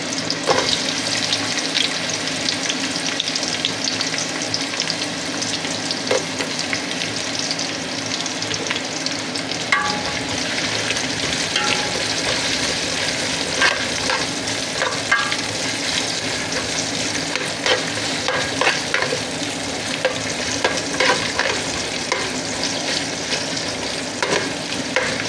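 Onions fry in a pan for tilapia sinigang, giving a long, even, close sizzle that holds steady throughout, with occasional faint clinks of stirring.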